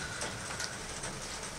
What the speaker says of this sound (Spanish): Está lloviendo aquí en Castellón